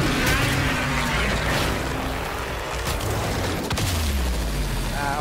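The Arca Plasmor plasma shotgun fires at point-blank range in Warframe, a dense, loud roar of shots and booming impacts layered over continuous game noise, with no pauses.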